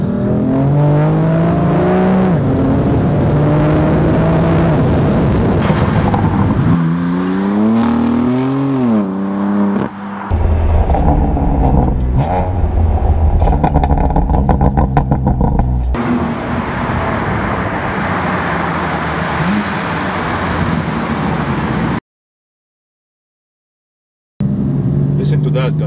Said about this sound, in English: Can hear the exhaust on the liftoff. There's a lot of crackles and burbles